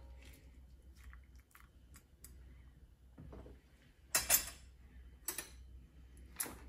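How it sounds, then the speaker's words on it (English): Quiet close-up eating of lentil soup with spinach and carrots, with scattered spoon clicks against a bowl and soft chewing, a few sharper taps near the end, and no talk. "And then taste it. I like to get a bite of spinach, carrots, and the lentils."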